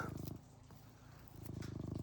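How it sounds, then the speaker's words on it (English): A cat purrs close by in a cold, frozen outdoor setting, a soft rhythmic rumble heard in two bursts separated by a brief lull, faint overall. "listen to that purr."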